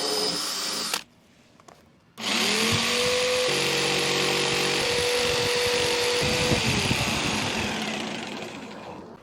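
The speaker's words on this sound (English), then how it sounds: "then use the jigsaw to cut all of those" A jigsaw cutting wood for camper van kitchen cabinets whines loudly with a steady buzzing cut, stopping briefly after a second, then resuming with rising and settling pitch until it trails off.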